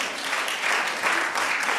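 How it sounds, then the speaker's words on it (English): An outdoor concert audience in cold, windy weather gives a short burst of fairly loud, continuous clapping with slight swells. "a round of applause for you"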